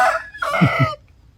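A domestic rooster crows close by in a garden, a short loud cock-a-doodle call that drops to quiet, with the hen flock kept as poultry nearby.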